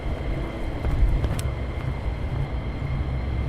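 Fighter jets of the 494th, red tail bands, taxiing at the Lakenheath airbase, giving a steady, moderately distant engine drone and whine that swells slightly, with no talk over it.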